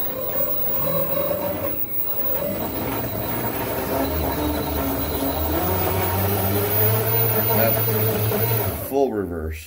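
A small single-screw RC tug boat runs its motor in full reverse in a tub, giving a steady close whirring hum with water churning under speech, then cutting off near the end.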